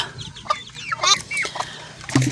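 Chickens cluck and chirp in a farmyard beside a new nest, a busy run of short calls close by, with a few louder bursts near the end.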